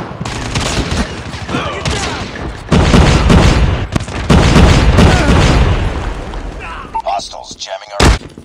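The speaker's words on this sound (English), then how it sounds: "I'm destroying your sentry gun" Dense gunfire and booming impacts fill a Call of Duty Mobile match as an enemy sentry gun is shot down, loud and continuous with a final sharp blast near the end, under bits of talk.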